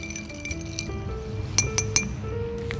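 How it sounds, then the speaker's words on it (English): Ice clinks and rattles against a mixing glass as a Saratoga Sunrise cocktail is stirred, with a few brighter, louder clinks near the end, close and steady with no talk. "And we're going to stir that nicely"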